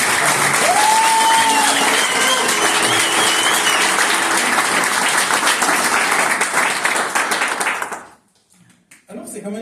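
Loud, sustained crowd applause at a church baptism, with whoops and cheers mixed in, running for about eight seconds before dropping off abruptly into quieter room sound.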